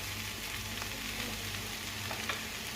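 Zucchini sizzling steadily in a hot pan, a continuous, moderately quiet frying hiss with a few faint clicks and no talk over it.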